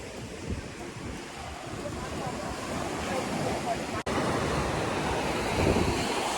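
Sea waves wash onto Chaweng Noi beach at the Sheraton resort on Koh Samui, a steady surf rush with wind buffeting the microphone, alone and moderately loud.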